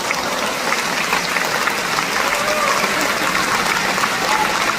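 Steady, dense applause from a large concert audience at a show, a continuous wash of many hands clapping with a crowd murmur underneath, loud and unbroken throughout.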